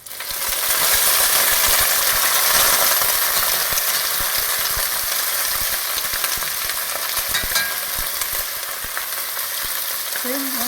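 Escarole frying in hot oil, a loud steady sizzle and crackling splatter that swells early then settles to a constant hiss, with faint utensil clinks.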